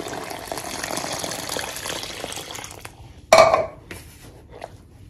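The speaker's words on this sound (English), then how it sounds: "I'll go ahead and make a wall in the center and add the water." Cold water pours from a container into a well in a bowl of flour for meat pie dough, a brief splash and trickle following a stretch of steady background noise, close and clear.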